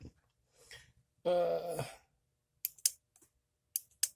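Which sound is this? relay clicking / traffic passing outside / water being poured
relay clicking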